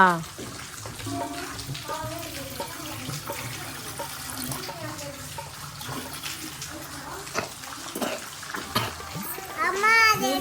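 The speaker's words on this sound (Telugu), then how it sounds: "ఫస్ట్ నీళ్ళు పోస్తున్నా" Water is poured and splashes during a household Dogla festival ritual on Korla Punnam, a continuous trickling sound under nearby talking voices.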